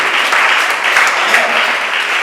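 A church congregation applauding and cheering in a sustained, steady wave of clapping that fills the whole stretch, fairly loud and close.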